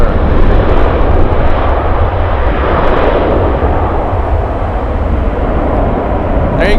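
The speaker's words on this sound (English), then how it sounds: "Let's go over to the United 737. Touching down as we speak." United Airlines Boeing 737 touching down in Anchorage, a loud, steady broadband jet roar with no break, dense and close throughout the landing run.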